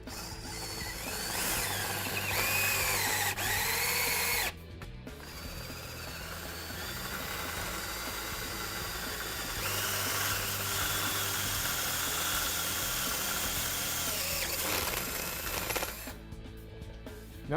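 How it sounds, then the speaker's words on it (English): A power drill bores pilot holes out to 5/16 inch for nerf bar hardware on an E-Z Go TXT golf cart, running in long whining bursts with a brief pause and stop near the end, and no talking. "Our next step is to drill the pilot holes out to the 5/16"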